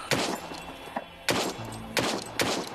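Loud, sharp gunshots from a weapon in the video game Arizona Sunshine, five or so bursts with uneven gaps, each cracking then trailing off briefly.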